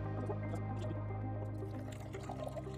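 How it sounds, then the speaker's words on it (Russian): Leftover gold and nickel plating solution poured carefully out of a small container, a close, continuous liquid trickle and drip over a steady low hum, without voices. "надо еще аккуратно очень слить остатки раствора"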